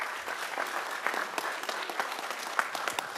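An audience at a city commission meeting gives a round of applause, a moderate, even patter of many hands clapping without pause, somewhat distant and with no talking over it.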